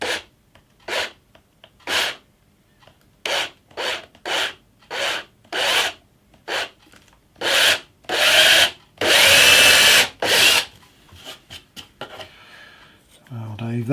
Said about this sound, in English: And let's drill some holes.